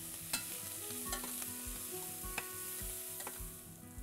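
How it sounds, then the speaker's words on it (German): Celery pieces fry in hot peanut oil in a large pot, a soft steady sizzle broken by occasional spoon clicks and stirring scrapes, heard up close with no voices. "Darin brate ich dann die Selleriestücke während 3 Minuten"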